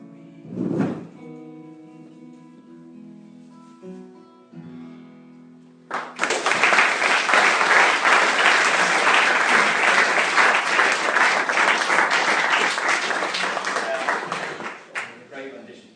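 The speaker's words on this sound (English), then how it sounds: "I notice you get all the claps when you do the song." Audience applause bursts in after a sung tribute to James Connolly, following a brief sung or spoken tail, then holds as a dense, steady crowd of clapping for about ten seconds before tapering off.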